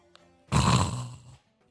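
A person mimics snoring with one loud, rasping breath lasting just under a second, close and isolated, after a brief quiet pause.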